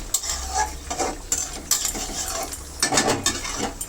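Fried prawns and mixed vegetables are stir-fried in a pan, with busy repeated scraping and tossing of a spatula over a moderate sizzle, close and continuous.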